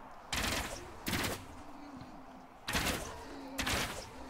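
Gunfire rings out in the Ultimate Epic Battle Simulator video game, four loud bursts of rapid shots, each lasting a fraction of a second, separated by short gaps.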